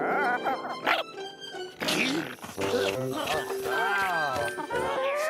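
A cartoon dog in a Garfield cartoon gives short, lively animated vocal sounds, mixed in with frequent character dialogue and busy soundtrack noise throughout.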